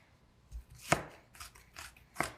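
A knife chops a small onion on a cutting board, giving a few sparse, crisp cuts in an irregular rhythm, close and fairly quiet with no talking.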